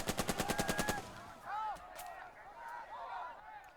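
Rapid bursts of gunfire from the Burden of Command war video game: a steady string of about ten evenly spaced shots, then scattered whistles and distant battle noise.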